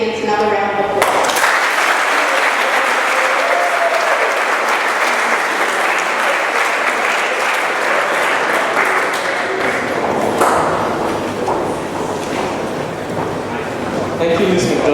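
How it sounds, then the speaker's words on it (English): Sustained applause fills a Year 12 graduation hall for the award recipients, dense steady clapping from a large crowd that holds for most of the stretch, shifting slightly near the end. "All the award recipients, another round of applause."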